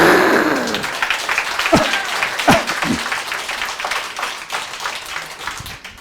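Audience applause fills a gathering during a sermon, with dense steady clapping throughout and a few louder individual claps standing out near the start.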